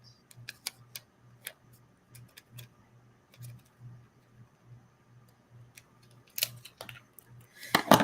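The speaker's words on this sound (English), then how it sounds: "now I'm going to go ahead and cut this in half" Scissors snip through a paper planner sticker, cutting it in half with a few soft, close clicks spread over several seconds, followed by a louder rustle of paper handling at the end.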